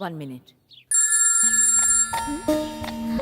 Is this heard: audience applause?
no